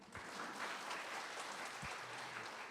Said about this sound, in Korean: 훌륭하신 분들인데 본인들을 위해서 박수.